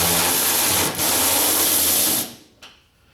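Bolts being undone on a Holden EH, a close, continuous ratcheting buzz from a power tool that runs for about two seconds with a brief dip, then stops, followed by a single faint click.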